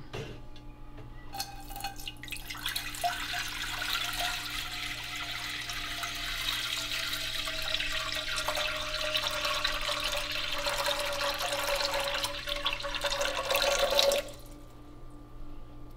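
Distilled water pours from a jug into the base of an All American stovetop autoclave sterilizer pot, a steady splashing stream running close and alone for about fourteen seconds before stopping abruptly.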